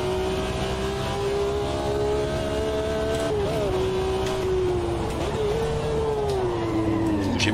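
Car engine heard from inside while downshifting into second gear on a bend, practicing heel-and-toe; a steady droning note wavers and blips up around each shift, then pitch falls and climbs again, loud and continuous.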